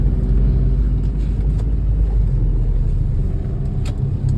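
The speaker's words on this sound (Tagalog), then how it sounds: "Bawal ang tricycle dito. Ba't may tricycle dito?" Motorized tricycle passing on a road, a loud close engine rumble that persists throughout with slight rises and falls, other traffic noise mixed in.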